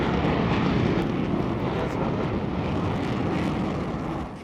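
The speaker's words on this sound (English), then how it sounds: "a German Tornado jet is powering up for the first training exercise of the day" A German Air Force Tornado jet bomber powers up for a training exercise, a loud, continuous, broadband engine roar that holds steady throughout and eases slightly at the very end.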